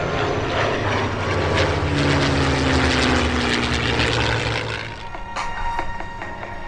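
Two World War II-era warbirds, a P-51 Mustang and an F4U Corsair, make a low treetop-height parade pass at an airshow, their loud droning piston-propeller engines filling the whole clip and fading slightly near the end.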